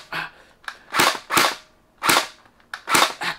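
Splatrball toy gel blaster gun fired at a wall, a series of about seven sharp snapping shots with impacts, close and fairly loud, in uneven groups of two with brief gaps.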